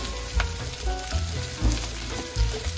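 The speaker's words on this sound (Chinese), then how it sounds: "我们就把我们准备好的芋头，对，不用煮哦，不用煮，我们倒下去炒一下" Taro pieces, added raw without boiling, sizzle and fry in a hot pan over low heat with oil, a steady crackle broken by a few soft scraping stirs, close and alone with no talk.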